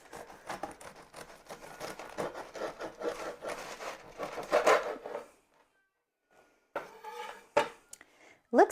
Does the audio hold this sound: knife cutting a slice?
yes